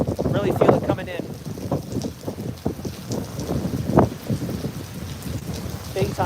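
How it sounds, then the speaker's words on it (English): Heavy rain and gusting wind from a tropical storm in Tampa Bay batter the microphone with loud, rumbling roar and rain noise, while someone talks over it throughout. "See if I can use this to block the rain a little bit."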